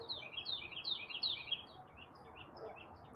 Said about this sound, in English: Wow, the birds are loud.